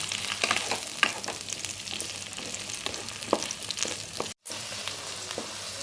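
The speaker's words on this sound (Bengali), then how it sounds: "আমি এখন কেটে রাখা ভেন্ডিগুলো মধ্যে দিয়ে দিচ্ছি। এখন আমি এগুলোকে হালকা করে ভেজে নেব।" Cut okra (bhindi) fries in hot mustard oil, giving a dense, continuous close-up sizzle with scattered pops and light stirring, briefly cut off near the end, with no voices.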